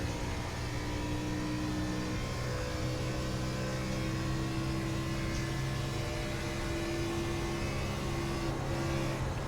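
A race car at the Outlaws Cup at Texas drones steadily with a sustained engine hum and tonal whine, the pitch shifting slightly as the driver eases off the throttle, loud and continuous.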